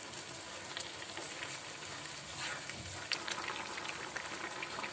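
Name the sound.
carrot halwa with sugar being cooked and stirred in pan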